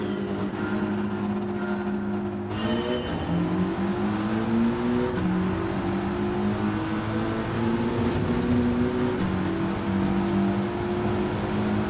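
A Mitsubishi Lancer race car in Gran Turismo 7 on the Road Atlanta circuit, its engine droning steadily with pitch shifting through gear changes and revving, loud and continuous with no talk.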